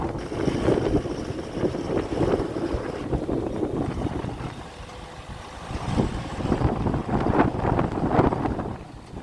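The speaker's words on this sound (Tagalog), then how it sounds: "kasi naman napakalakas na guys ng hangin" Strong wind buffets the microphone in gusty surges outdoors in a province near the water, rising and easing in uneven waves over a low, rushing roar, with no voices over it.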